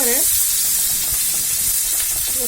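Onions sizzle and fry steadily in a hot pan for an Odia ilish fish curry, a loud continuous crackle with a brief voice at the start and end.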